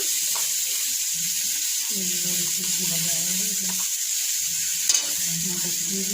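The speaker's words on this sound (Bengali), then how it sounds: "একে একে সব সবজি দিয়ে দিচ্ছে ভাজার জন্য" Vegetables for home-style chow mein frying in a pan with green chillies: a continuous bright sizzle, with voices murmuring faintly underneath and a brief clatter near the end.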